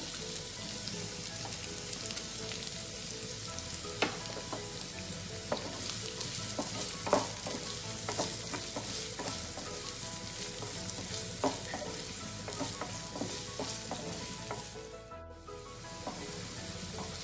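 Onions and green chillies fry together in a pan with a steady, crackling sizzle close up, punctuated by occasional clicks and scrapes of stirring throughout, and no voices.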